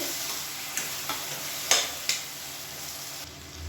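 Chopped tomatoes sauté in a pan over a medium flame, giving a soft, even sizzle broken by a few sharp scrapes of a stirring spoon.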